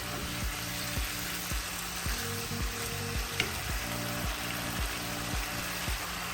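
Chicken sizzles steadily in masala over high heat, a dense continuous frying hiss with occasional stirring scrapes and a faint regular tonal hum beneath, no voices.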